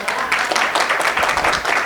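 Sustained applause from a conference audience during a business speaker's presentation, a dense, loud, even patter of many hands clapping throughout.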